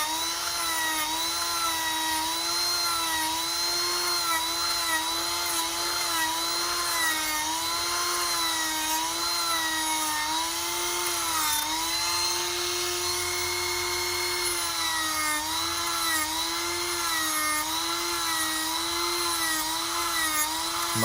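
Continuous whining power-tool drone from sanding the edges of a leather holster, steady and loud with a wavering pitch that dips and recovers under varying pressure, running alone without talk.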